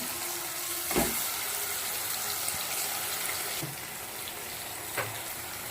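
Softened tomato frying with spices in a pan for doi katla, a steady close sizzle with occasional stirring knocks and scrapes against the pan.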